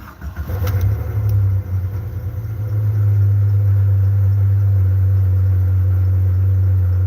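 A Jeep engine cranks and catches, then settles into a loud, steady idle with a deep, constant rumble close by.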